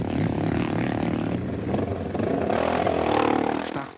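A BMW R80 GS motorcycle in the 1985 Dakar desert rally, its engine droning loud and close for the whole stretch, pitch climbing as it revs up midway, with rattling clatter over it before dropping off sharply at the end.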